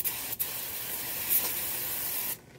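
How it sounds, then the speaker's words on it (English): Brake cleaner sprays onto the hub surface where the rotor mounts on a 2010 Toyota Yaris, a steady close hiss lasting a couple of seconds with brief breaks and a short renewed burst at the end. "Brake clean, and I got a wire brush."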